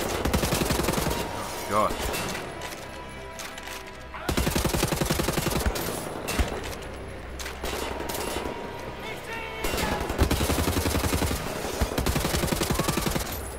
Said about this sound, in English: If in doubt, akimbo some assault rifles.